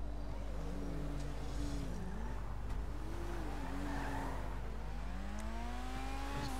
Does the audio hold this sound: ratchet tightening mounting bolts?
no